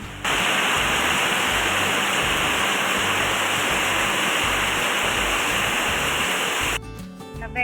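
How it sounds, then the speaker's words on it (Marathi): Heavy rain pours down in a dense, constant roar that stays loud and unbroken, then cuts off abruptly near the end. "तुम्ही आवाज त्याच्यावर ऐकू शकता की किती जोरात पाऊस पडतो आहे"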